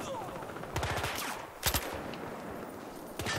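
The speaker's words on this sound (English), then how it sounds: "I think I'm gonna have to pick up this LMG." Light machine gun fire in Battlefield Hardline multiplayer, heard as a few short, punchy bursts with gaps between them over low game background noise.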